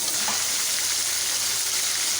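Tomatoes sizzle and fry in a pan of mutton Shinwari karahi, a steady loud crackling hiss that holds without a break.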